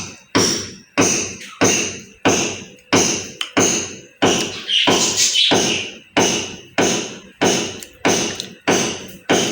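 Construction work on a house being built upstairs, with heavy hammering or pounding in a steady rhythm, roughly one thud per second, loud and echoing through the room, with no talk over it.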